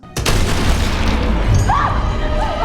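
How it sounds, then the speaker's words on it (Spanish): A gunshot rings out in an animated Pinocchio film: a single sharp, loud blast that leaves a lingering rumble behind it. Faint voice-like sounds follow underneath. "El pobre Dudley es acabado de dos terribles headshots"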